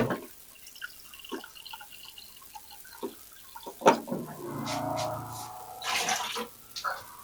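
Cold water running from a refrigerator door filter dispenser into a measuring spoon in a home kitchen, heard as a steady trickle with a few drips and clicks, close and moderately quiet, with no talking.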